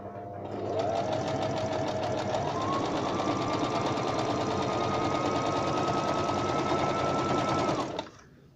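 A Brother BM 3700 sewing machine runs a dense embroidery stitch, a close, continuous rapid mechanical whir with a steady rhythm that holds for about seven seconds before stopping.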